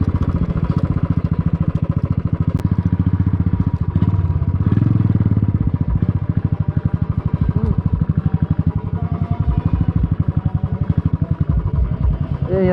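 A motorcycle rides a hilly road in Ilam, Nepal, toward a village fair, its engine a steady, loud, near drone with rapid rhythmic pulsing throughout and brief faint voices.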